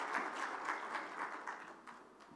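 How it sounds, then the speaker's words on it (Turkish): Audience applause at the opening session of the 2021 Beykoz symposium, welcoming a speaker to the podium; steady, moderately faint clapping from a hall crowd that tapers slightly toward the end. "alkışlarınızla konuşmalar için huzurlarınıza davet etmek istiyorum"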